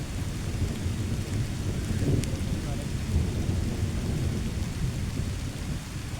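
Heavy rain pours steadily at a rock cave on Mawaragala mountain near Dambana, with deep thunder rumbling through a dense, even roar of falling water.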